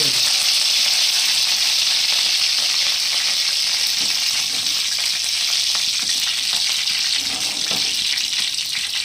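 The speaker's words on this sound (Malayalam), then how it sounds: "എണ്ണ തിളച്ചിട്ടുണ്ടെങ്കിൽ നമുക്ക് കറിവേപ്പില ഇനി" Curry leaves dropped into hot coconut oil for a fish fry, a loud, dense, continuous sizzle and crackle heard close up for the whole stretch.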